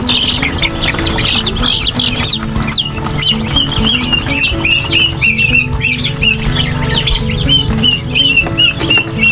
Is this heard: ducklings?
yes